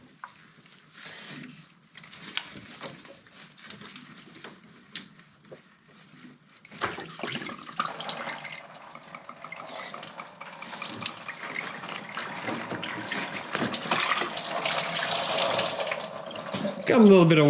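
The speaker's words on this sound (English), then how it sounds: "Got a little bit of water coming out there" Coolant water trickles and splashes from a disconnected hose on a VW during coolant flange replacement, a faint intermittent dribble at first that becomes a steadier, louder splashing flow by the end.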